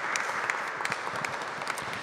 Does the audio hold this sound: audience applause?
yes